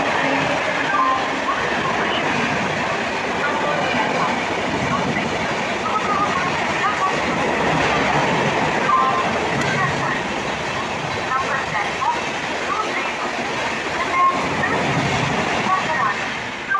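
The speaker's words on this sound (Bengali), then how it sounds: "তো ট্রেনটা এত জোরে গেল তোমরা ভাবতেও পারবে না।" A through train races past a station at speed, a loud, steady rushing roar that holds for the whole stretch with little change in level.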